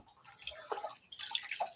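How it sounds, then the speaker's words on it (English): Water is poured back into a gold pan with paydirt tailings, giving splashy, trickling drips in two short bursts, close and fairly quiet. "Oh, that water goes back in here."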